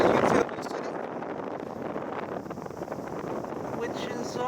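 Steady broadband wind rushing across the microphone in Seoul, South Korea, with a city view, loud and continuous, with a brief louder gust at the very start.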